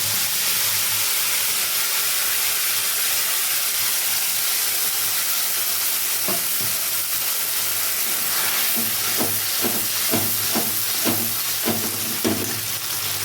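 Spice paste of ground cashew, raisin, yogurt, ginger, garlic, tomato and green chilli frying in hot oil, a steady close sizzle and hiss with intermittent clicks and scraping stirs in the second half, no talking.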